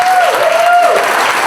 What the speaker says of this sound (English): Everybody give Cynthia a big round of applause.